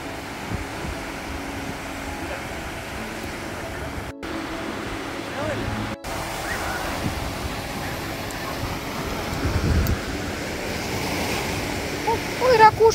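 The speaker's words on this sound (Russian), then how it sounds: "Вот он, океан. Слышите шум волн?" Atlantic surf at Myrtle Beach, South Carolina, washes in as a soft, continuous rush of waves with wind buffeting the microphone, and a louder swell building near the end.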